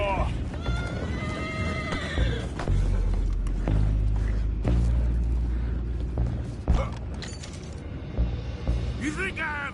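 Horses whinny and neigh amid a busy Red Dead Redemption 2 game soundscape, with creaking anchor mechanisms, clopping hooves and bursts of voices shouting over steady low rumble.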